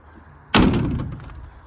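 A Land Rover Series 3 88 door swung shut with a single loud, close metallic slam that rings and rattles briefly before fading, with no talking.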